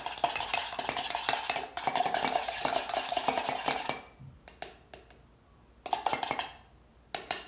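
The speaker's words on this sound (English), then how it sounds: "You wanna stir it up to where it make it look like you cooking eggs" Raw egg with its yolk is stirred briskly in a bowl, giving a dense run of scraping, clinking strokes that stops abruptly, then a few scattered taps and a final short burst of stirring.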